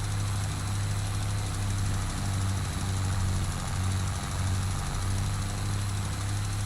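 A John Deere-style 8400 farm tractor idles steadily in the Iowa Plains game, a loud low rumble with a constant throb and a faint whine above it, running unbroken without talk.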